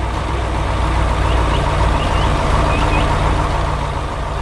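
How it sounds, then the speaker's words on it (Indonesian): A red truck works in a farm field in an animated cartoon, a steady loud engine drone with a few faint high beeps, under a voice narrating. "Truk merah bekerja keras di tengah ladang."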